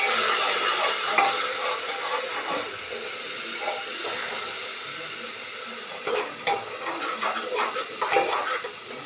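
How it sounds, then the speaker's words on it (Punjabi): Spice masala roasts and sizzles in a pan while being stirred, a loud steady frying hiss with scraping spoon strokes growing busier toward the end. "ਮੈਂ ਦੇ ਪਾਉਂਦੇ ਮਸਾਲੇ ਨੂੰ ਭੁੱਜਣ ਦਿੰਦੇ ਆ"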